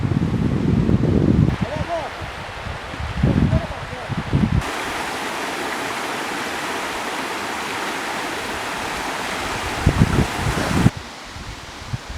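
A flooding creek spilling across a rural village road in Cide after weeks of heavy rain, its steady broadband rush running throughout, with people talking at the start and briefly near the end.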